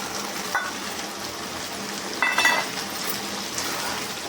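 Paneer cubes sizzle and fry in a pan for chilli paneer, a steady close crackle with a brief louder spatter and clatter midway.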